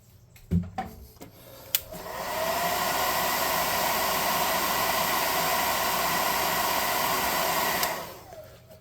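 A heat gun blows hot air steadily onto a sand devil tabletop miniature, a loud continuous broadband whoosh lasting about six seconds after a few clicks and handling knocks, then cutting off.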